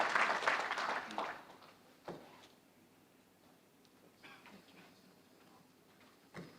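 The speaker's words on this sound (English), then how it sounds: "maybe we should give even a bigger round of applause" Applause from the audience at an IMF public lecture in The Gambia: a brief burst of clapping swells at the start, fades out within about two seconds, then gives way to a quiet room with a few scattered knocks.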